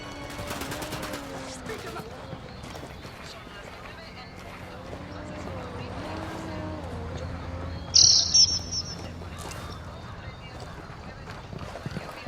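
Gunfire in the tactical shooter game Ghost Recon Wildlands: a loud, brief burst of shots near the middle stands out over steady background rumble, with voices talking through much of it.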